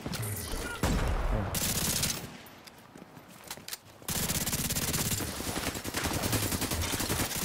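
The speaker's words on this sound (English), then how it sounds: "Oh, someone's shooting me somewhere." Sustained gunfire in The Division 2 video game, dense rapid shots and bursts filling nearly the whole stretch, loud and close, dipping briefly in the middle before resuming at full intensity.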